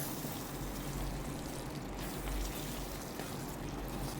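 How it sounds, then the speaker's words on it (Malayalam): Water is poured into a pot of Kerala-style ulli theeyal, a shallot curry. The pouring is soft and continuous, a faint steady trickle with nothing else over it. "ഞാൻ കുറച്ചും കൂടെ വെള്ളം ഒഴിച്ച് കൊടുക്കട്ടെ"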